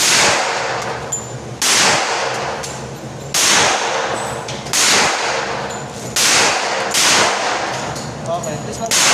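Six loud, sharp shots from a .45 caliber Rock Island 1911 pistol during firing practice, evenly spaced about a second and a half apart, each with a crisp crack and a short ringing decay.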